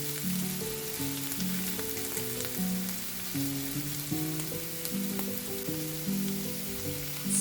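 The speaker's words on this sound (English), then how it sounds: "Stir in the cooked rice." Cooked rice being stirred into meat in a pan, with a steady close frying sizzle and soft scraping stirs running throughout, no voices.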